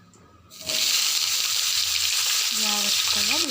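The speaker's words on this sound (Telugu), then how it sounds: "దోరగా వేగినాక మనం ముందుగా కోసి పెట్టుకున్న వంకాయ ముక్కల్ని వేయండి." Eggplant pieces drop into hot oil with chana dal, mustard seeds and cumin, bursting into a loud, steady sizzle after a quiet start, with brief tonal scrapes of stirring near the end.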